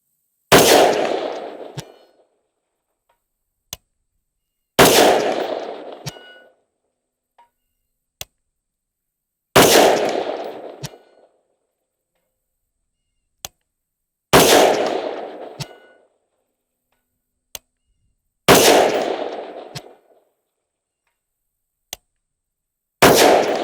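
Rifle shots from Norma .223 77-grain match ammunition fired at a steady practical pace during long-range shooting, five loud sharp cracks spaced about five seconds apart, each followed by a short decaying echo, with faint clicks in between and no talk.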